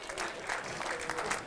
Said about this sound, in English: Now he gets the round of applause.